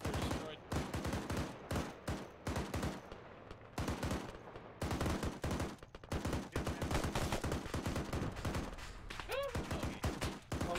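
Gunfire in a military video game, with bursts of machine-gun and rifle shots cracking in rapid rhythmic volleys, separated by short pauses, loud and close throughout.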